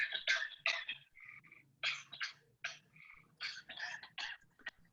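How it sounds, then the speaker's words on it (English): Recorded coughing played back through a phone speaker: a quick run of about a dozen short, close, slightly tinny coughs with no talking. "So we see the cough has been registered."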